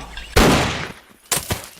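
A sharp, loud gunshot blast with a booming tail, followed about a second later by a second shorter shot.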